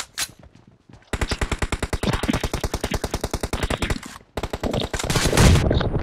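Rapid automatic gunfire from PUBG Mobile on the Hangar team deathmatch map, loud and close, firing in long rhythmic bursts with a short pause between volleys.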